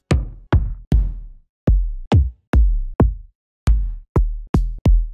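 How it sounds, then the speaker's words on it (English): Deep kick drum sample hits repeat one after another, each a punchy low thump with a quick decay, separated by brief silences. "So let's pick a kick. I'm gonna go for our deep melody kick samples."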